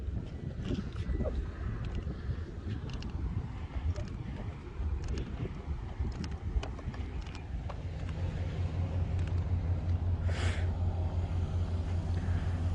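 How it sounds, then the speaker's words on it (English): Low, steady engine rumble from idling vehicles with wind noise and scattered background sounds; the hum grows stronger in the second half. "confirm that these vehicles are still idling"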